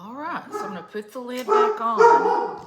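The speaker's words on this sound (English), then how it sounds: "Sorry about the dog." A pet dog named Arlo barks and yips several times nearby in a home kitchen, the sharp barks overlapping a person talking throughout.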